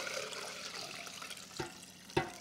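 Water poured into a measuring container while making jook, a soft, steady liquid pour with a couple of small splashes or knocks near the end.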